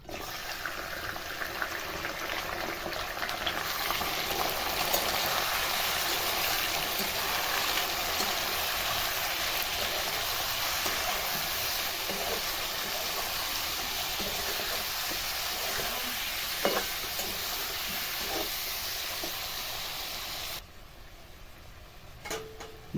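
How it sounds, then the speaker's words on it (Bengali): Chicken pieces go into a hot pan for chicken nihari, setting off a steady, broad hiss of cooking that holds for about twenty seconds before cutting off abruptly, with a few faint clicks and no talking. "সেই মাংসটা দিয়ে দেবো এটার মধ্যে"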